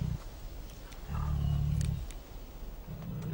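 A Siberian tiger gives deep, rumbling roars in three heavy bursts, near and loud, the middle one longest, with outdoor background noise between them.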